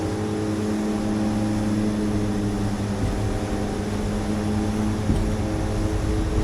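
A simulated aircraft engine drones steadily at takeoff power in a flight simulator game, a loud continuous hum with steady tones throughout.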